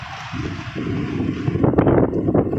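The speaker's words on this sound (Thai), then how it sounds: "ลมคักไอรี่รอ" Strong wind buffets the microphone outdoors in a rural field, a steady roaring rush that grows louder and gustier toward the end, with no speech.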